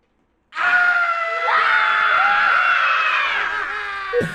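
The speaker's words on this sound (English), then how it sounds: "That's my favorite part of all the vocals on that song is getting to scream." Screamed vocals in a played song: a sustained, loud, strained scream with a harmonic upper part, running about four seconds alone before cutting off abruptly.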